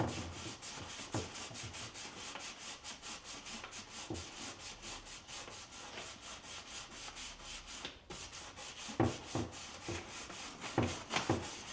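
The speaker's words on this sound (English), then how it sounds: "I'm going to take the disc off the sander and hand sand that part" Quiet, steady back-and-forth rubbing of sandpaper worked by hand along a wooden fender edge, with a few sharper scuffs and knocks between strokes.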